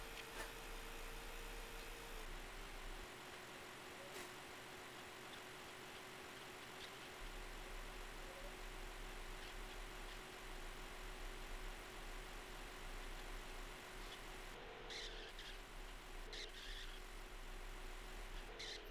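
A heavy, slow brewery delivery truck in San Andreas Multiplayer drones with a continuous steady engine hum and low rumble, with a couple of faint clicks near the end.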